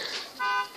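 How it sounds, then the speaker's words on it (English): A neighbor's truck alarm sounds from a distance as a short, faint electronic tone that swells briefly and then fades. "their truck alarm goes off like every 40 minutes"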